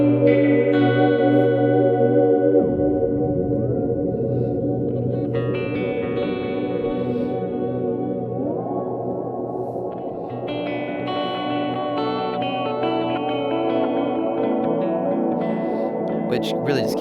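Sustained layered synth chords run through a Vongon Polyphrase with a Walrus Slöer in the effects loop, shimmering with chorus, echo and pitch-shifting swells that shift tone midway, loud and continuous with no talk.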